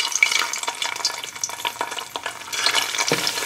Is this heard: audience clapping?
no